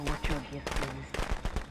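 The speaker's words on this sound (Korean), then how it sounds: "아, 폭죽." Firecrackers going off in the horror video game Friday the 13th, a rapid string of sharp crackling pops, fairly loud, with a short pause midway before the bursts resume.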